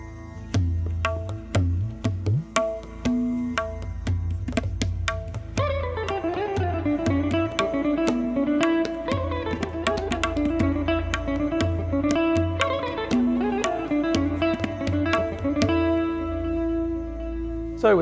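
Guitar playing a raga phrase that closes with a tihai, plucked notes and slides in a rhythmic pattern, close and steady with no talking.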